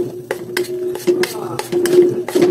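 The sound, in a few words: stirring KFC-style gravy in a pan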